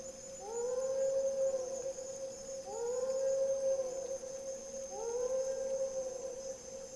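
A wolf howl run through a Psychotic reverb preset, three sustained swooping howls in a row, each rising then sliding down, with a washed-out processed tail and a constant thin high tone beneath, no voices.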